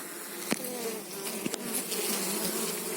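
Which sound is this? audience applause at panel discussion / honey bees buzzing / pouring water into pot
honey bees buzzing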